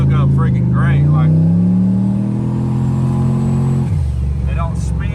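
A G-body car engine revving against the foot brake and holding at boost cut, a loud, close, sustained drone that climbs, holds, then drops, with a few spoken bursts over the start and end.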